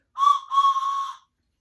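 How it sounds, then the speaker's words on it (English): A steam train whistle blows two close, loud harmonic blasts, the first short and the second held longer, alone and fairly near. "Now the bell is ringing, ding, ding, ding, ding, ding, and the whistle blows."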